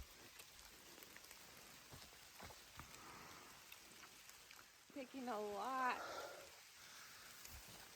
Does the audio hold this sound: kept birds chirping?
no